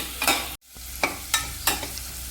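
Carrots sizzle steadily in a pan for fried rice as they are stir-fried, with a spatula scraping in a few rhythmic strokes and a brief gap partway through.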